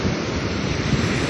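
Big ocean waves crash and surge during a typhoon, a loud, continuous roar of surf mixed with gusting wind buffeting the microphone, with no pause in the churning water.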